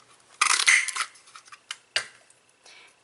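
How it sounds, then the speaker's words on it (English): A classic label punch cuts out a paper sentiment with a crisp crunching snap, followed by a few softer clicks and paper rustles, close and quiet with no talk. "I'm going to slide that sentiment down in there and get that cut out"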